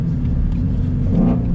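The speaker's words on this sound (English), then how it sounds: "There is no automatic rev match downshifting, so you're gonna have to heel toe all by your lonesome." A 2019 Ford Shelby GT350 engine rumbles loudly and steadily from close by during a heel-toe downshift, with a brief rise in revs toward the end.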